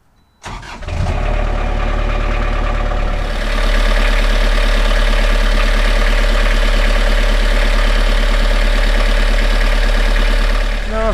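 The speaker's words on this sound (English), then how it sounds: "So let's start her up." A Beta 38 marine diesel engine on a boat cranks briefly, catches and settles into a loud, steady idle with a rhythmic knock, close by and alone.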